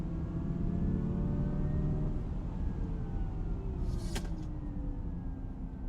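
A steady electric drivetrain whine from a Honda Prologue Elite AWD in sport mode, with rising tonal hum over road rumble, continuous and fairly loud throughout.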